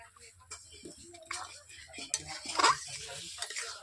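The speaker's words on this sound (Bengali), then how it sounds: "চিনি দেওয়ার পর এইভাবে আমি নেড়ে নিচ্ছি" Spoon stirring a papaya, potato and chickpea curry in a pan after sugar is added, giving a few scattered scrapes and clinks with a brief louder scrape near the end, quiet and close.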